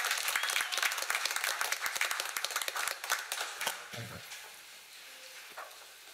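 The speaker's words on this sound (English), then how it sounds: "you can applaud for every one of them" Audience applause at a parish council meeting: dense clapping for most of the stretch, then thinning to scattered claps as it fades toward the end.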